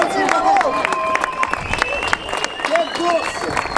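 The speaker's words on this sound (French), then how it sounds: "On les applaudit très fort" A crowd at the Sanair 2014 rally claps and cheers for the drivers, with steady applause running under an announcer's amplified voice and bursts of whistling.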